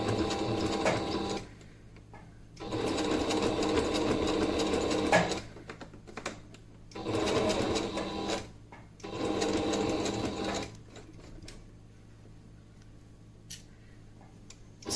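A sewing machine stitching a face mask runs in several short bursts of steady rapid clatter, separated by brief quiet pauses, then falls silent apart from faint handling sounds near the end.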